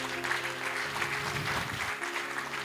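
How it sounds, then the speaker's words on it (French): Applause in a university lecture hall, a brief steady patter of clapping over a low droning hum with a murmur in the room. "vous pouvez l'applaudir."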